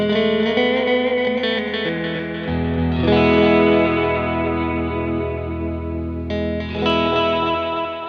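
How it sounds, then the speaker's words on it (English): Clean ambient electric guitar chords ring out with a delay effect, each phrase followed by fading repetitions that wash into a spacious, reverberant tail, played alone without talk. "The delay is basically you get different repetitions of what you have just played, like this."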